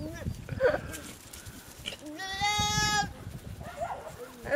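Goats, does in heat and males, bleat in a wavering, nasal cry, one long call standing out, with a person talking softly before and after.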